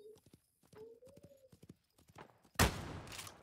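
Horse hooves clip-clopping in a rapid, rhythmic gallop in the video game Wild West Online, close and distinct, ending in a sudden loud gunshot-like burst.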